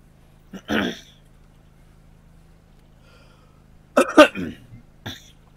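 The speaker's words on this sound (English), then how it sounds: "Excuse me for coughing." A person coughs indoors: one short rough burst, then after a quiet pause a tight cluster of harsh, close coughs and a final small throat-clearing hack, with no talking around them.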